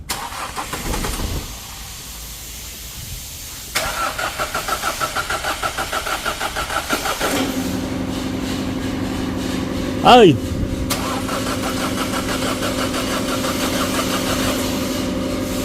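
An Isuzu D-Max 1.9 diesel, one with knocking and white smoke, cranks briefly and starts, then settles into a steady close idle with a rev blip; people talk nearby.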